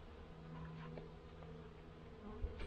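Honey bees buzzing inside a hive during a February winter inspection in Pennsylvania, a faint, steady, dense drone of many insects close by with no talking.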